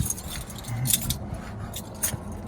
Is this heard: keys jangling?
yes